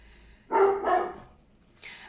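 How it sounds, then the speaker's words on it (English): A pet dog indoors gives a single loud, close bark that trails into a softer second yelp, followed by quiet room tone. "can't think why he's barking."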